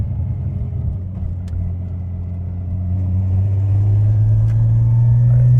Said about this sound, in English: But the gearbox noise is similar.